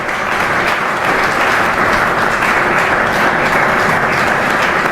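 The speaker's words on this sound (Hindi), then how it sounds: "अब ताली बजाइए" Sustained audience applause at a puja gathering, a dense steady wash of many hands clapping together, loud and continuous throughout without a break.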